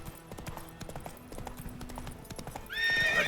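Roach the horse in The Witcher 3 clip-clops along at a trot, hooves thudding in an even rhythm, then a high, loud whinny rises near the end.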